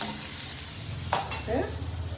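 Onions fry in a pan for bisi bele bhath, a soft, steady sizzle broken by a couple of sharp spatula scrapes and clinks as they are stirred.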